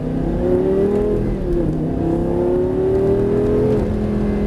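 A Lamborghini Gallardo LP 560 engine drones loudly and steadily from inside the moving car, its pitch rising and dipping slightly as it revs under way.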